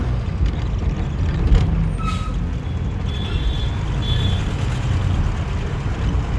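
A bus climbing slowly along a mountain road on the Haridwar to Badrinath route gives a steady, loud engine and road rumble, with a few brief higher hisses and squeals over it.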